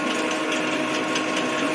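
A metal-turning lathe runs at a steady, even pitch after being started, its continuous mechanical hum and whir filling the whole short moment at a constant level with no voices over it.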